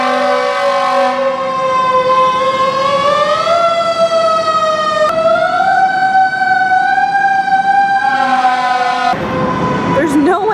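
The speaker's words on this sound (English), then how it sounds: "There's another fire truck!" A fire truck siren wails loudly through a city street in Washington, DC, its rising and falling tone sweeping continuously as the engine passes, with a brief burst of other traffic noise near the end.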